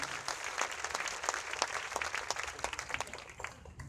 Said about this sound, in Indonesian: Kita kasih tepuk tangan sekali lagi buat anak-anak muda